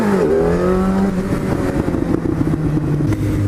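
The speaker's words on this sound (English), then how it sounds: "This bike is so good at doing wheelies. It's a joke. In first gear" A Yamaha FZ1 1000 motorcycle accelerates hard in first gear, its engine note climbing steeply in pitch, loud and close with wind buffeting, then settling into a steady high-revving roar.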